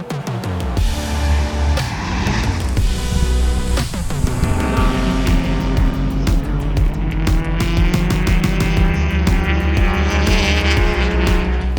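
Loud, continuous roar of race car engines revving and shifting as cars speed past during a GLTC race on a track, with occasional tire squeal.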